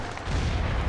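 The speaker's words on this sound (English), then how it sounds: "Oh, grenade out." A grenade blast in the Battlefield video game, a dense low rumbling boom that swells and holds loud across the second with a crackling noisy edge.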